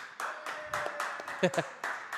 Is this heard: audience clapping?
yes